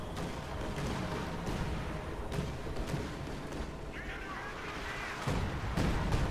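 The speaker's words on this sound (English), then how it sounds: "Here comes the artillery, ladies and gentlemen." Artillery fire in the Company of Heroes 2 video game, a series of dull booming impacts and thuds scattered through busy battle noise, with a commentator talking over it.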